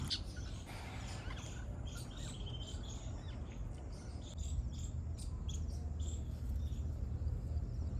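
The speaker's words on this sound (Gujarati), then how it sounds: "પક્ષીઓ કેવા કલરો કરે છે" Birds chirp and call in a hot Botad village, with short, high twitters scattered over a low, steady outdoor rumble and a constant insect-like buzz throughout.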